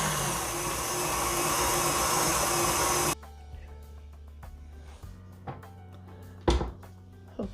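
An electric mixer whirs loudly and steadily for about three seconds while body butter with a teaspoon of vitamin E oil is mixed, then cuts off, leaving quiet scrapes and a few soft knocks.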